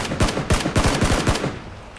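Enemy gunfire in the game Battlegrounds, a rapid burst of around eight sharp shots in uneven rhythm, loud and close, fading to quiet at the end.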